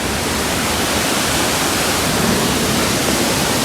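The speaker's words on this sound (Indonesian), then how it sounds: "Dan untuk spot air terjun Watu Gantungnya ada di sebelah sana teman-teman." Roaring rush of the Coban Watu Gantung waterfall and river near Prigen, Pasuruan, a loud, steady broadband wash of falling water that holds constant throughout, with no voices.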